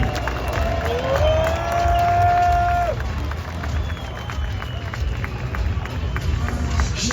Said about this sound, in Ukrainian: ще, ще овації команді